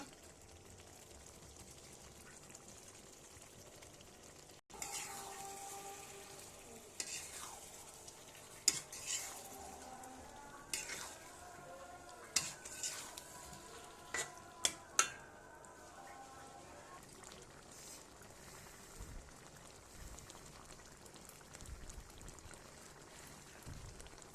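Giant freshwater prawns frying in a well-cooked spice paste, starting as a sudden sizzle after a moment of quiet, then steady frying with scattered sharp clinks and scrapes of stirring. No one speaks.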